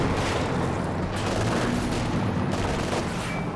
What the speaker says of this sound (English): A few bazookas connecting.